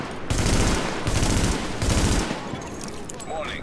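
Small arms gunfire in The Division, three loud rapid bursts of automatic fire up close, each lasting about half a second, separated by brief gaps and followed by quieter ambient noise.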